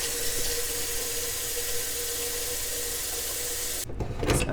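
Tap water pours steadily into a pot of dry garbanzo beans, a continuous close hiss that breaks off near the end into a few brief clunks and splashes.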